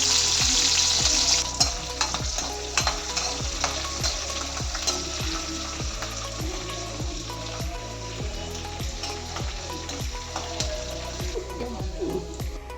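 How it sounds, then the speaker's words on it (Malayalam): Halved garlic cloves frying in hot oil for gooseberry pickle, a dense, crackling sizzle close by with a regular run of sharp clicking taps throughout, steady and without any voices. "ഇനി ഇതിലേക്ക് കുറച്ച് വെളുത്തുള്ളി രണ്ടായി മുറിച്ചതിട്ട് നന്നായി മൂപ്പിച്ചെടുക്കാം."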